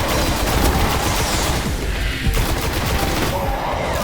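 Rapid gunfire in the video game Destiny, fired at an enemy protected by a shield, forms a dense, loud, continuous clatter of shots and impacts that fills the whole stretch without clear pauses.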